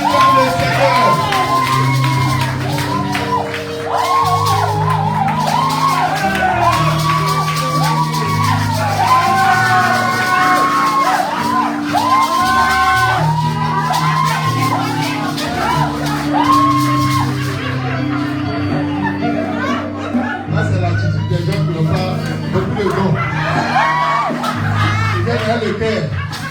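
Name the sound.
church congregation cheering and shouting in acclamation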